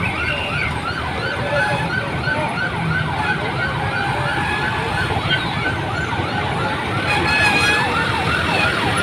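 Several overlapping fire truck sirens wail and sweep up and down continuously, loud and close, over rumbling traffic noise.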